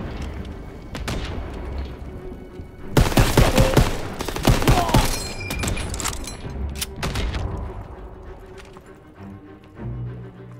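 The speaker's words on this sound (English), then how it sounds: "Oh, it's just incendiary shells." Incendiary shells fire in Call of Duty: WWII during the Hill 493 mission, a dense barrage of loud cracks and booms over a rumbling battlefield bed that peaks mid-clip and then thins to scattered reports.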